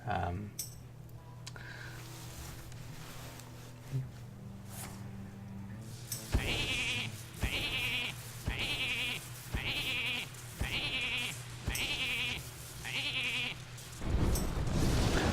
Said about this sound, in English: He turned my board into sheep. Ah, 7 sheep.